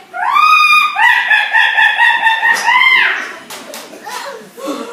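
Hens cackle wildly on a farm, a series of loud, close, drawn-out squawking calls that fade into softer clucks. The cackling appears to come from a human voice imitating the hens.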